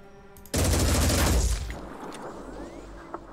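Gunfire from a new gun in the video game Phoenix Point: a sudden loud burst of rapid shots that hits hard, then trails off into a long rumbling decay, with one small click near the end.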